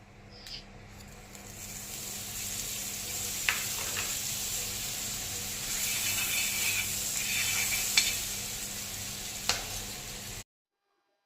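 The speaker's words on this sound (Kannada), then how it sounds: "ತವಾ ಬಿಸಿ ಆದ್ಮೇಲೆ ಸ್ವಲ್ಪ ಬಟರ್ ಹಾಕೋತಾ ಇದ್ದೀನಿ." Butter melts on a hot tawa for pav bhaji with a steady, moderate sizzle and a few sharp clicks and scrapes, then cuts off into silence at the end.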